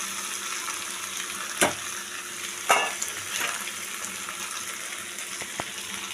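Pasta frying in a pan with vegetables and egg gives a continuous bright sizzle, broken by two sharper scrape-and-clatter bursts as it is stirred in, then a few lighter knocks, all close.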